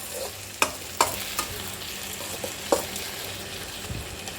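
Tomatoes fry in a pan for a simple tomato chutney and are mashed down, giving a constant sizzle with several sharp knocks and scrapes of the spoon against the pan.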